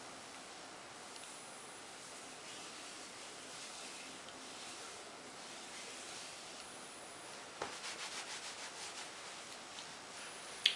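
Hair shine product is rubbed between the hands, a soft steady rustling friction close by that stays faint and continuous, with a few slightly louder brushing strokes near the end and no talking.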